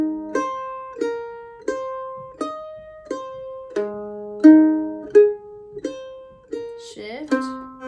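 Mandolin playing a section of a song: a steady run of about a dozen bright plucked notes in even rhythm, clear and close, with no voice over it.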